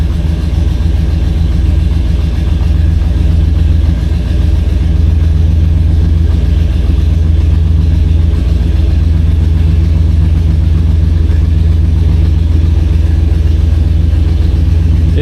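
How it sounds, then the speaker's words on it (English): A 1969 Buick Electra 225 V8 idles steadily after a cold start following an overnight sit, producing a loud, continuous low rumble with an even, unbroken tone throughout. "It's a cold start, she's been sitting overnight."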